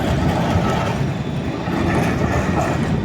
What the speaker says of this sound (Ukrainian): Тут ну, це трамвай зараз приїде.